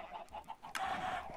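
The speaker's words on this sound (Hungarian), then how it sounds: "Te Jézus Mária, mennyi csirke." Chickens clucking in the video game Minecraft, a quick run of short, soft clucks and squawks from the flock, moderately close and heard alone without talk.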